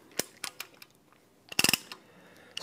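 Ratchet of a rivet nut tool engaging while setting a rivet nut to repair vehicle thread damage: a few sharp metallic clicks, then a tight burst of rapid ratcheting clicks, close and alone.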